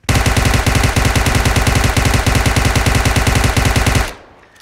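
Rapid, loud, continuous automatic fire from an UMP submachine gun fired from the hip with a laser sight in PUBG Mobile, a dense unbroken burst lasting about four seconds before stopping abruptly.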